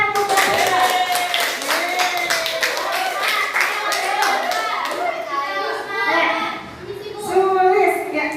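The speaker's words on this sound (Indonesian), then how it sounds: "Beri tepuk tangan untuk mereka." Hands clap in a steady burst of applause from a school class, with children's voices chattering over it throughout.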